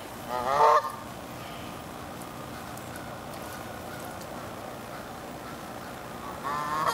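A goose gives two loud, nasal honks, one near the start and one at the end, over a steady outdoor background hiss.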